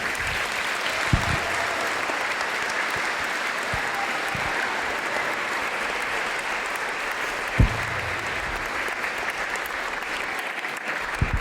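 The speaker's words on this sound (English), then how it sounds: "You guys deserve a huge round of applause" Steady, even applause from a school audience at a Pay It Forward fundraiser event, sustained crowd clapping at moderate level throughout with a couple of sharper individual claps standing out.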